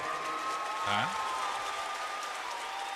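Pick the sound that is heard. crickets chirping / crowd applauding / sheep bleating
crowd applauding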